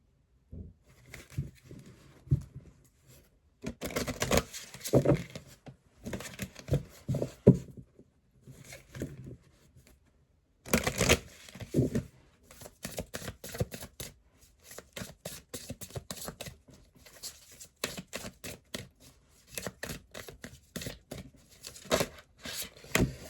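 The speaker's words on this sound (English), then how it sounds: "I will shuffle this up and we will get started." A deck of cards is shuffled repeatedly, with dense bursts of crisp riffling and flicking separated by brief pauses, close and fairly loud with no talking.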